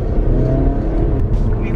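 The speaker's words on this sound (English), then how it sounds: "I gotta put my car in sport mode because I gotta race this car right here and beat them to the light" A car accelerates hard in sport mode from close inside the cabin, a loud rising engine whir and road roar building steadily, with a person talking over it.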